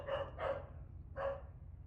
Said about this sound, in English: You hear the dog barking inside.